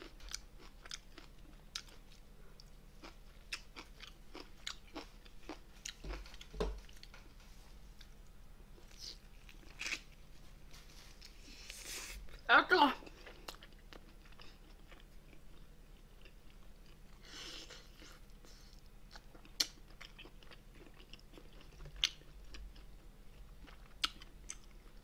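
Braised monkfish (agujjim) being eaten at a Korean mukbang table, with soft, quiet chewing and occasional sharper crunchy bites scattered across the stretch, one louder cluster of crunching near the middle, no talking.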